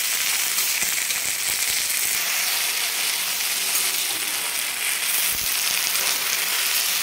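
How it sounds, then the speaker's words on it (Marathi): Tandulja (amaranth) greens being sautéed on a tawa give off a steady, moderately loud sizzle with faint scraping from stirring. It runs unbroken and with no voices over it. "छान दाबून घ्यायची आणि याला परतून घ्यायची एकदम"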